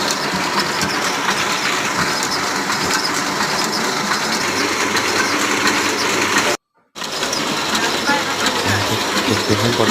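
An offset printing press clatters through a four-colour print job in a print shop, a loud, steady mechanical rhythm of rolling and clacking that continues throughout except for one abrupt half-second cut.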